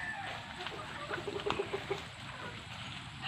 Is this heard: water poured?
no